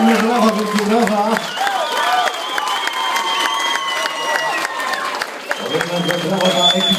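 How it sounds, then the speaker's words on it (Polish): Applause and cheering break out from a wedding crowd after a surprise dance performance, with loud clapping, shouts and a voice over a sound system speaking across the noise. "Ogromnie brawa, wielkie brawa."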